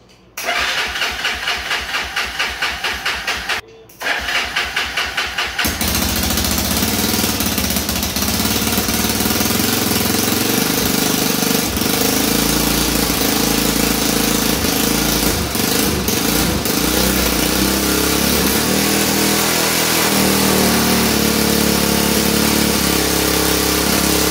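A rebuilt Honda 300EX ATV engine cranks in rapid bursts, pauses briefly, cranks again, then catches and keeps running with a loud, rough, steady idle.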